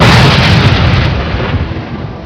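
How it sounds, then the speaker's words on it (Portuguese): Thunder mixed with gunshots: a loud, dense roar of booming rumble rolls on continuously, heavy and close, with no clear pauses. "os sons de trovões se misturaram com os de tiro"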